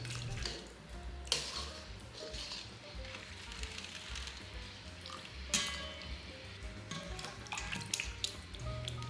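Pork ribs being washed by hand in a basin of clean water: steady close sloshing and splashing with occasional sharper splashes, fairly quiet, with no talk.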